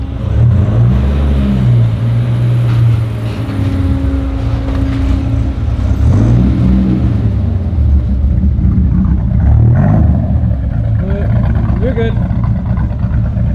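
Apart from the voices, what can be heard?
Dodge Viper GTS engine idling with a lope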